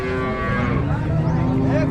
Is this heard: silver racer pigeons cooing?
no